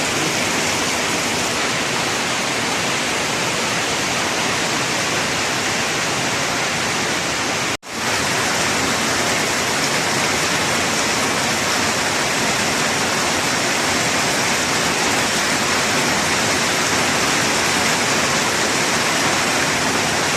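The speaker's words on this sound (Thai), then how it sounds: "ฝนตกเศร้าไหมพี่น้อง" Steady, dense rain hisses without a break for about twenty seconds, broad and even, with only a brief dropout partway through.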